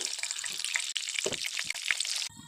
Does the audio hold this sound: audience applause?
no